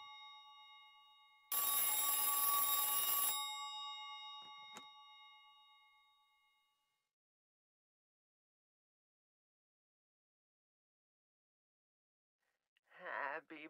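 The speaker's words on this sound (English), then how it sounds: "I will pick up this phone ringing in a locker" In Silent Hill 3, a phone rings inside a locker: a loud, bright electronic ring that sounds for a couple of seconds, then a few faint dings as it decays into silence before a voice briefly speaks near the end.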